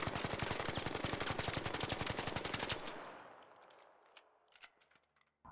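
The Stitcher weapon in the ARC Raiders video game fires without a muzzle brake in a rapid automatic burst of about three seconds, loud and evenly spaced, then cuts off and leaves a fading tail with a few faint sounds.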